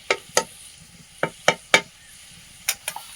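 Greens and shrimp frying in hot oil, with a series of sharp, loud sizzling bursts and stirring clatters spaced irregularly, each flaring and fading quickly over quiet background.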